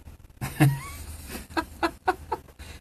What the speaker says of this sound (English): the voice is of the birds